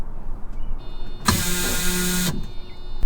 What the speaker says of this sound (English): the fuel pump is coming on